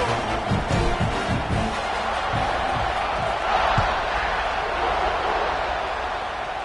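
A roaring football stadium crowd at a South Carolina game swells in a loud, dense wash of cheering and yelling, with a few thuds early on and no clear talk.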